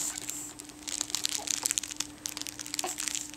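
Crinkly plastic from a pet's crinkle toy being dug at and pawed, a close, irregular run of crisp crackles and rustles that keeps going steadily with brief louder bursts.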